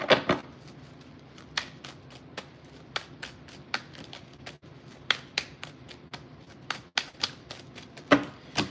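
Crisp, irregular snaps and flutters of cards being shuffled, sharp riffling bursts spaced unevenly with quiet gaps between them.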